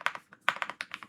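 Rapid, quiet keystrokes on a computer keyboard, about a dozen crisp taps in quick uneven rhythm, close and alone.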